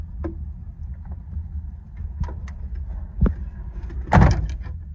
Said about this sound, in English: Van door's closed.